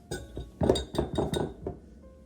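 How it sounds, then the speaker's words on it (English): A spoon scrapes and clinks against a glass bowl while mixing vanilla paste for butter cookie dough, giving several quick close taps and strokes in an uneven rhythm that trail off at the end. "Just push your spoon along the edge here, and that smashes all the clumps."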